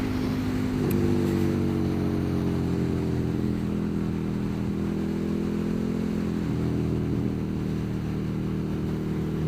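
A KTM Super Duke 1290 R motorcycle engine drones steadily while riding, loud and continuous with shifting harmonic pitch as speed changes, wind rush underneath, no talking.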